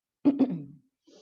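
A single short throat clear with two quick rasping bursts, close and distinct, followed by a brief faint sound.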